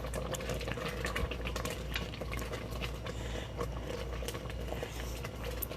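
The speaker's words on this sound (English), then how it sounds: "We are boiling peaches" A pot of peaches bubbling at a steady boil, dense continuous bubbling and popping with a low background hum.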